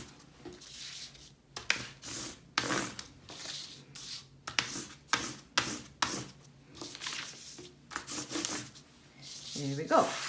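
Crayon rubs over textured paper for a children's texture art project, a string of scratchy back-and-forth strokes in uneven bursts with short pauses, close and fairly quiet, alongside occasional talking.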